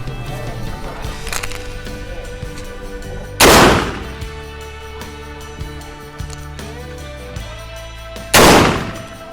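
Huglu Renova shotgun firing at a 10-metre target outdoors, two loud, sharp blasts a few seconds apart, each ringing out briefly over a low background hum.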